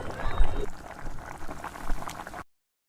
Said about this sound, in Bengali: রান্না করব যতক্ষণ না ঝোলে ফুট আসে